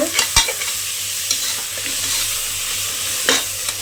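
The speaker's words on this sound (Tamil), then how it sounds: "நல்லா வதக்கி விட்டுருங்க" Steady sizzling of a pan being sautéed for mushroom biryani, close and continuous, with a few sharp spatula scrapes and knocks against the pan.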